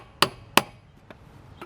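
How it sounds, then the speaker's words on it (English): Hammer blows on a stuck locking lug nut on a 2001 Jeep Wrangler: two sharp, loud metallic strikes in quick succession, followed by two fainter knocks. "now I got a big hammer"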